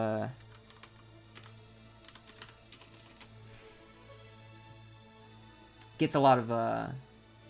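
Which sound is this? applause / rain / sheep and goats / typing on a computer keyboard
typing on a computer keyboard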